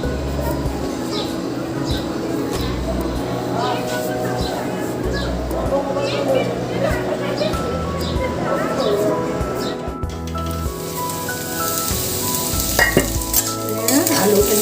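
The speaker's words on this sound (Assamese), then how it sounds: "আলু ভাজিছোঁ।" Potatoes fry in a pan with a continuous sizzle, joined by intermittent stirring clatter and scraping, while someone talks nearby over the cooking.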